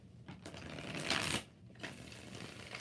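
Tarot cards shuffled by hand in a quiet room, a soft papery riffle that swells to a louder burst near the middle, then lighter rustling, with no talking.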